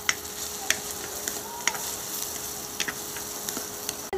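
Onion and garlic sauté in hot cooking oil for palabok sauce, a soft steady sizzle with small crackles and pops scattered throughout, fairly quiet and close.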